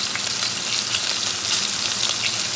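A bison ribeye steak fries in butter with garlic and thyme, giving a loud, steady, close-up sizzle with crackling spatter and no talking.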